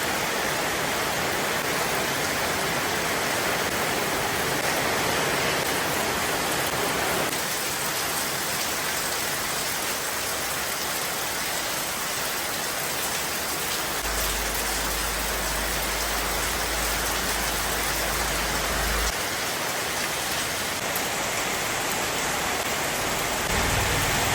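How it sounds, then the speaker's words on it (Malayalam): Heavy rain pouring steadily outside a house, a loud dense unbroken hiss with no voices and a low rumble partway through. "ഞാനിതാ ചായയൊക്കെ കുടിച്ചിട്ട് പുറത്തിറങ്ങാൻ നേരത്തുണ്ടല്ലോ ഗംഭീര മഴ കേട്ടോ"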